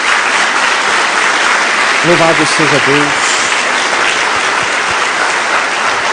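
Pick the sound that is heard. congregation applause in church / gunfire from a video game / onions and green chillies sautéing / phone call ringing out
congregation applause in church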